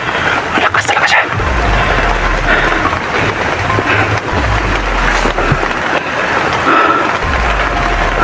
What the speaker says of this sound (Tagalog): Ang lakas pa yung ulan tol.